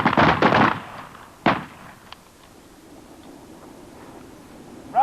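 Two rapid pistol shots crack out close and loud in a police survival shooting drill, a quick pair of sharp reports at the start followed by a fainter third shot and quiet range ambience.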